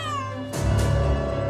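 A cat meows in a Wicked Willow game trailer, with a clear, near meow drawn out over a steady musical bed that swells partway through.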